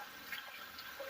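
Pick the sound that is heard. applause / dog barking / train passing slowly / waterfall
waterfall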